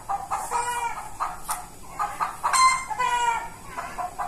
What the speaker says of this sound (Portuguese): A galinha assustada do nada.